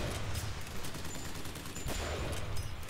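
Gunfire from Bioshock Infinite, a steady crackle of repeated shots with dense low rumble and sharp transients throughout, moderately loud with no talking.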